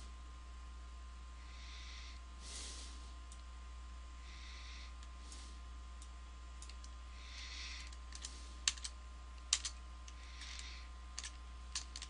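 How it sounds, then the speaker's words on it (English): Spacebar presses on a computer keyboard while working in the UDK editor, a scattering of soft, light clicks over a low steady hum, with a few sharper taps near the end. "to change the widget, I am hitting the spacebar"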